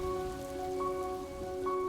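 Rain falls on a college baseball field during a game delay, a steady, soft hiss at low level with a faint constant hum running underneath and no voices.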